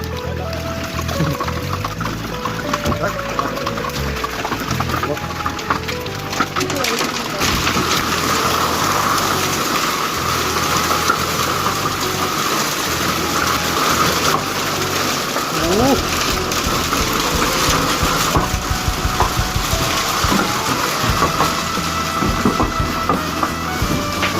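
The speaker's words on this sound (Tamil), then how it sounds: "எழுந்து போய் பார்த்தா ஐஸ் கட்டி மழை" Heavy rain mixed with hail pounds a camp in Oman, a dense, loud, continuous rushing clatter that stays steady throughout, with voices faintly underneath.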